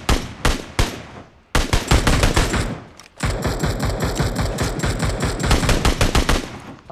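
Video game gunfire crackles in rapid automatic bursts: a few separate shots, a brief pause, then long sustained volleys of loud, closely spaced reports with no voices over them.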